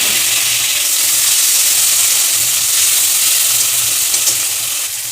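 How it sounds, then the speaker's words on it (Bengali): Tomatoes go into a hot pan of oil and fried onions, giving a loud, even sizzle and hiss that continues steadily throughout with faint low stirring underneath. "এবার টমেটোগুলো দিয়ে দেবো।"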